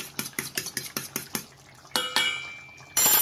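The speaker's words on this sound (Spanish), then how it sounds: "Voy a batir levemente un huevo" An egg lightly beaten in a bowl for a home-style stew, a quick series of about ten rhythmic clicking whisk strokes, close and clear, followed by a few scraping clinks.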